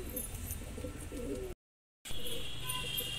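Soft pigeon cooing in the background amid outdoor ambience, interrupted by a brief silent gap before the ambient sound resumes.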